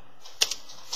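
Fingers type on a computer keyboard, entering a website address: a few quick, crisp key clicks close to the microphone.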